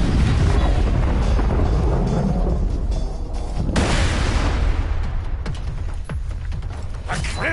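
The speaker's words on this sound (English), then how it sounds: "he's got a nuke going in the sky" A nuke detonating in the sky in Borderlands 2 gives a loud, sustained rumbling blast, with a fresh burst of roaring noise around the middle and scattered sharp cracks and pops toward the end.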